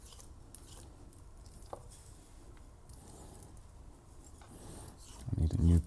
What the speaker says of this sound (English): Just put it down on a plain surface and then slowly turn it while I peel.